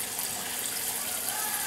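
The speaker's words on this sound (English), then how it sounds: "I'm going to rinse them pretty well. I shredded them into water" Shredded potatoes rinsed in water for hash browns, a soft continuous rush and splash of running water, fairly quiet and steady.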